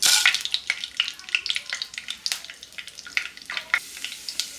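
Chana dal and urad dal, added with cumin and mustard seeds, sizzle and crackle in hot oil for tomato rice, a dense spray of sharp pops and spits close up, with no talking.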